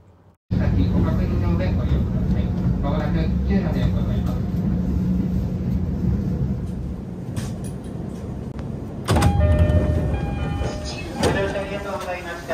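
A JR East commuter train rolls along near Tsuchiura with a steady, loud rumble and rattle, muffled voices underneath, and a sharper clattering surge near the end.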